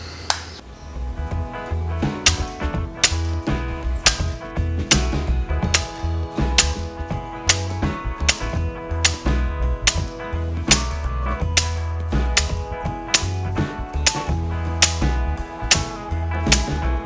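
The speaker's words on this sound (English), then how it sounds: "I'm just going to shoot two sighters just to see what the gun is doing on minimum power" A .22 air rifle set to minimum power fires pellets in a long series of sharp, close, evenly spaced snaps and clicks, loud against a quiet background with no talk.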